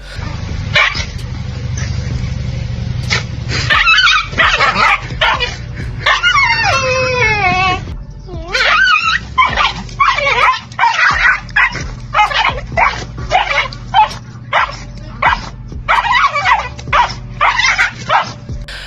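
A dog barks and yips repeatedly at close range, with whimpering and whining cries mixed in and a low hum under the first half.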